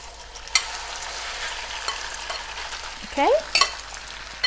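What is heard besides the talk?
marinated chicken stir-frying in a wok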